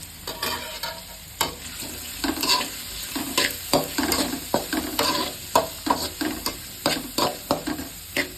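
A spoon stirs butter and turmeric frying in a pan for tomato thokku, with a soft sizzle underneath and repeated, rhythmic scraping strokes close up and no voices.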